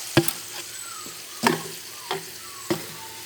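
Chicken adobo with soy sauce being stirred in a pan, four distinct scraping strokes spaced about half a second to a second apart over a faint steady sizzle, no voices.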